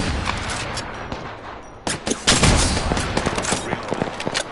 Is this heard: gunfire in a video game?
yes